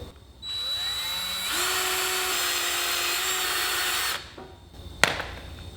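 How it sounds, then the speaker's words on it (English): A power drill whines steadily for several seconds while pre-drilling through metal, rising in pitch partway through, then stops, followed by a sharp click. "I pre-drill first for the screw through the metal"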